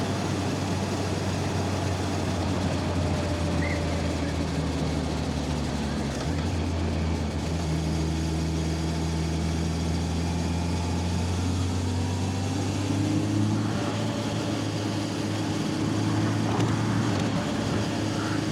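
A steady, low motorcycle engine rumble, a Honda Blackbird running without its aftermarket end cans, idles and revs gently, smooth and fairly quiet with no harsh rasp, continuous throughout without talk.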